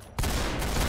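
Rapid automatic gunfire from a 100-round weapon in the video game Arsenal, a dense, loud, continuous burst of shots kicking in after a brief quiet start and sustained to the end.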